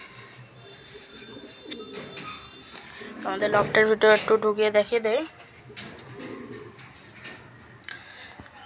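Pigeons cooing inside a loft, a burst of several deep, rhythmic coos rising for a couple of seconds, close by, with someone talking before and around it and faint chirps in the background.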